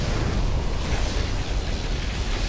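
A dense, roaring particle cannon blast in Operation Last Front, loud and sustained for a couple of seconds, like a heavy energy weapon firing with rumbling crackle.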